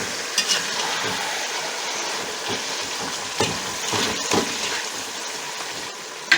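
Meat sizzles and crackles steadily in a pot as it is fried and turned for Uzbek Navoi-style plov, with a dense continuous hiss broken by occasional scraping stirs and a sharper clatter at the end.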